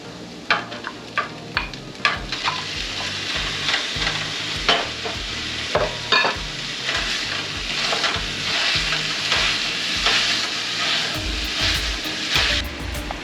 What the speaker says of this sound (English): So we're gonna add our ground beef in here and cook that until it's cooked all the way through.